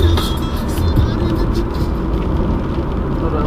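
A vehicle drives past at a rainy outdoor car show, a loud steady engine roar and road noise close by with a brief low rev near the start, and people talking nearby.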